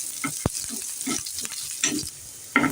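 Halved roasted peanuts and green chillies sizzle in a hot tempering for a quick breakfast, with close stirring scrapes and a few sharp clicks over a steady frying hiss. No one talks.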